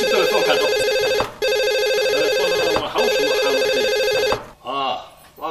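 Electronic telephone ringtone trilling in repeated bursts with short gaps, loud and close, followed by a brief voice as the ringing stops.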